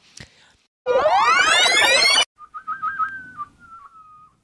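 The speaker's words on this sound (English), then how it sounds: "No, I was just whistling." A person whistles nearby: a long rising swoop followed by a softer, steady warbling tune with small trills, fairly loud and alone without talk.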